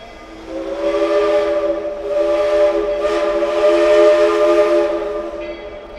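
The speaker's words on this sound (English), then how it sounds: "Starting on August 31st, they used this 3-chime Crosby whistle" A 3-chime Crosby steam whistle on a Shay locomotive sounds one long, loud, chord-like blast of about five seconds, swelling slightly with a breathy steam hiss, close and alone.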